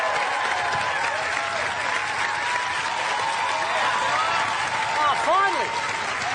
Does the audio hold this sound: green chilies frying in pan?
no